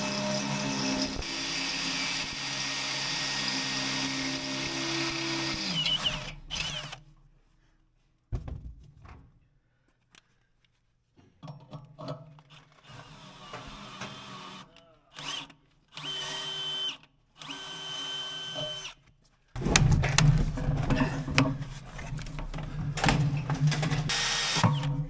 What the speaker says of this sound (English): We got to drill it and tap it, and then we'll slide the plastic ski in there and drill through the plastic and put the bolt in.